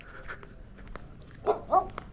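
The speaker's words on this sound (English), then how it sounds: "These dogs seem friendly." A few dogs in a residential neighborhood give two short, fairly distant barks and yips against quiet outdoor background noise.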